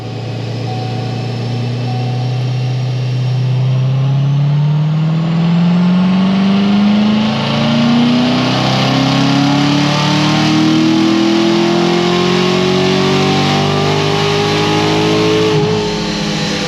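Corvette C7 Z06 engine on a dyno, revving in one long continuous pull, its loud drone rising steadily in pitch for about fifteen seconds before easing off at the end.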